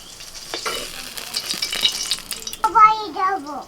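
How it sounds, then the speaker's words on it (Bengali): Eggplant frying in hot oil while being stirred in a pan, a steady close sizzle and scraping, followed by a voice and another voice talking. "ঠিক সেই রকম করে কিন্তু বেগুনটা ভেজে নিতে হবে"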